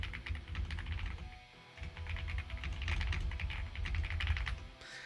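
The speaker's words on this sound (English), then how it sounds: "If you can hear me typing" Rapid, continuous clatter of keys on a computer keyboard, close and fairly loud, with irregular bursts of keystrokes and a brief pause midway.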